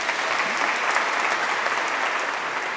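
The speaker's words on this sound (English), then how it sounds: "Is that applause because the demo worked?" Audience applause in a conference hall after a live hotel technology demo, a steady dense wash of clapping from a sizable crowd lasting a few seconds with no talking over it.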